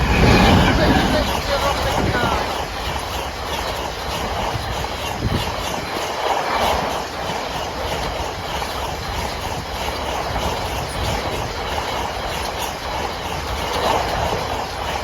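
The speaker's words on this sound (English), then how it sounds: "You can tell it's a freight train," A freight train rolls past the Balne Lowgate level crossing with a continuous loud rumble and clatter of wagons at close range, steady throughout with a faint murmur of voices underneath.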